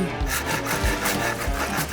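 A hand saw rasps through cardboard prison bars inside a giant box fort maze, steady back-and-forth scraping strokes close up and moderately loud.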